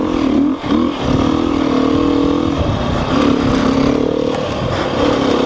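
A dirt bike engine, on a pricey high-torque trail machine, drones loud and close with sustained revving that dips briefly near the start, heard alone over rough ground.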